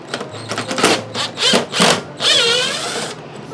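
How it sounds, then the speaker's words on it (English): A power driver backs Phillips-head screws out of a clothes dryer's door panel in several short whirring bursts followed by a longer sustained run, close and fairly loud, with no one talking. "I've got a driver that might help make that a little quicker."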